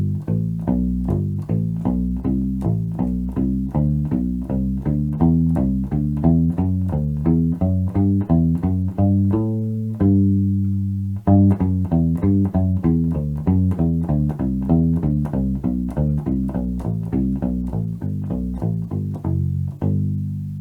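A U-Bass plays a major scale warm-up, plucking clear, evenly spaced low notes that step a few notes up the scale and back to the first note, pausing briefly midway before the pattern resumes, loud and solo without talk.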